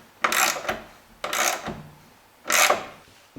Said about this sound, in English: using this socket wrench.